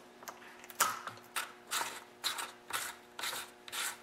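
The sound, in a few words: reinstalling bar and chain on STIHL MS180 chainsaw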